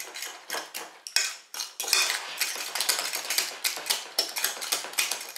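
A utensil scrapes and clinks against a bowl or pan while mixing carbonara sauce with lardons, a steady run of rapid metallic scraping strokes, close and fairly loud with no voices.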